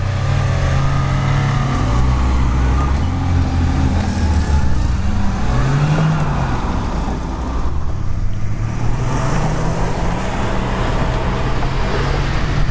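A Lada Niva Urban on factory tyres climbs a hill, its engine droning loud and continuous under load, with the pitch rising and falling slightly as it works up the slope.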